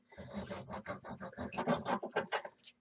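A hacksaw cuts through a Dollar Tree stone coaster in quick rhythmic back-and-forth strokes, about a dozen close, raspy scrapes in a little under three seconds.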